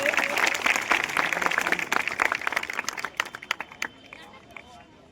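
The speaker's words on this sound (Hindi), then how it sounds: "तालियां एक बार से।" An audience at a street play on child marriage breaks into loud applause that swells, then thins out into scattered claps and fades to near quiet by the end.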